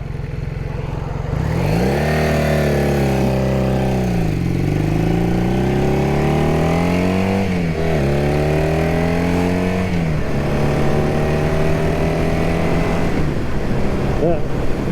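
A 1978 Honda CB400 motorcycle rides along a country road, its engine note rising and falling as it accelerates and shifts gears, with steady wind rush throughout.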